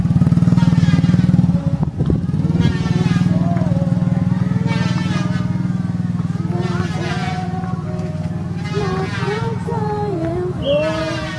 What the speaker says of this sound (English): look at her riding a motorcycle